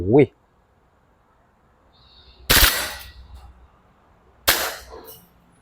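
A WE Glock 23 Gen4 BB pistol fired on full auto gives two sharp, brief bursts a couple of seconds apart, each cracking loudly and trailing off, with near silence between them.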